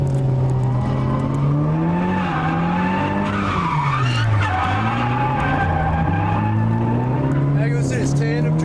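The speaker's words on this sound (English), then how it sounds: "Tandem drifting with your girlfriend." Drift cars tandem drifting at Nikko Circuit with worn, failing tyres, engines droning loud and continuous with rising and falling pitch and steady tyre squeal, voices talking over the noise.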